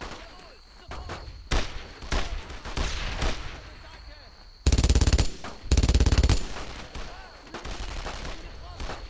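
Machine gun fire from a flanking position in the World War II game Brothers in Arms, heard as loud rapid bursts of automatic gunfire separated by pauses, with soldiers shouting in between.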